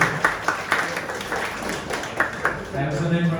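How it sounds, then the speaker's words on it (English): A jazz event audience claps in a round of applause, with scattered, uneven claps mixed under a continuous talking voice, moderately close but not very loud. "Please give yourselves a round of applause."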